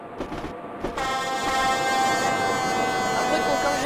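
A locomotive horn in the RailWorks train simulator game, on class 123 014, sounds as a loud sustained tone that starts about a second in and holds to the end over a steady running rumble.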